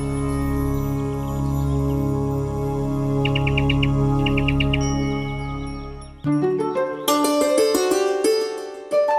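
Birds chirping in a dubbed Hindi animated film, short bursts of high tweets over a steady humming music bed, then brighter twinkling tones and chirps taking over in the second half.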